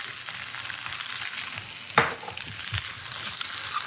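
Oil sizzles steadily in a very hot pan during a beef short rib cooking lesson, a continuous close frying hiss with one sharp louder spit near the middle; no talking.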